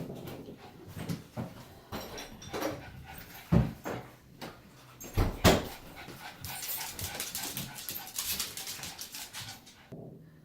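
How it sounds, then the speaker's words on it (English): Dogs bark, pant and whimper in a busy, noisy room, with sharp close barks standing out among scattered clatter and shuffling. "It's going to get loud. The dogs are home."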